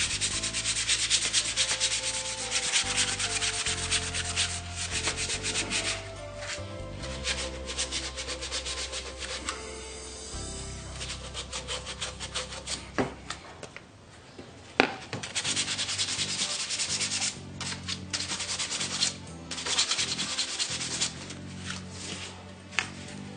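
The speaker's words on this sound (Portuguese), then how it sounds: "Dá uma lixadinha aqui, ó." Sandpaper rubbed over PVC pipe while a pan flute is being made, producing continuous rasping strokes in a steady back-and-forth rhythm, close and fairly loud, lasting over twenty seconds with no talking.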